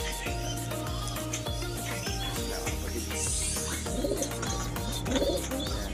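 Paired pigeons cooing up close in a repeated, rhythmic series of low, soft coos with a few brief chirps, a voice talking quietly now and then.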